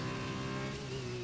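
Steady engine drone of an F2 car in the F1 2020 racing game at Bahrain, with a slight pitch drop partway through that fits a gear downshift, close and continuous with no talk.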